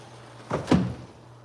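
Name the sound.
doors being opened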